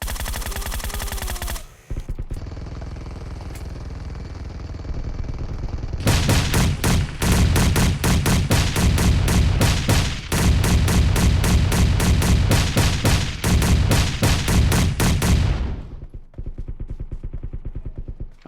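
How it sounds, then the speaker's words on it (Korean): Gunfire in a zombie video game: loud, dense bursts of rapid automatic shots that stop briefly, then return as long sustained volleys before cutting off. "딴 쪽에도 총소리."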